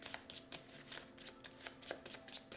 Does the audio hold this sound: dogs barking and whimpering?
no